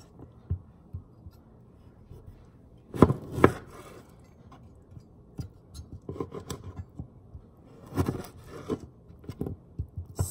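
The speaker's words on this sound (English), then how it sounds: "You're going to cut the lime into wedges." A knife slicing a lime into wedges on a cutting board in a home kitchen, with scattered crisp cuts and a few sharper chops, close and fairly quiet with no talking.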